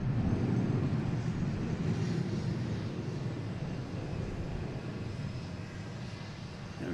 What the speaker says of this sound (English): we got American Airlines here taking off, heading to LaGuardia